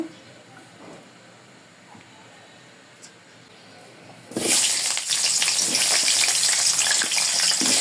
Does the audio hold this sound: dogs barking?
no